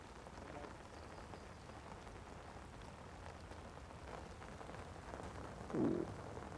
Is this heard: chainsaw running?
no